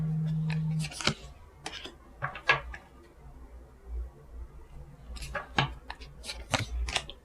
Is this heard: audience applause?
no